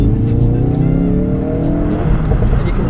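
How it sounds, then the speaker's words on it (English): Ford Focus RS hot hatch driven hard, its engine revving loudly up close with exhaust pops and rising and falling pitch as it powers through corners, with no voices over it. "And the exhaust note as well, popping away"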